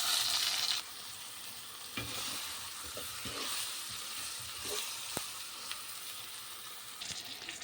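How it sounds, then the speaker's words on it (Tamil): Brinjal sautés in onion paste in a pan, a continuous close frying hiss with repeated scraping stir strokes and light clatter of the utensil throughout. "இதில் நம்ம கத்திரிக்காவை சேர்த்து ஒரு 5 மினிட்ஸ்க்கு நல்லா வதக்கி விட்டுடலாம்."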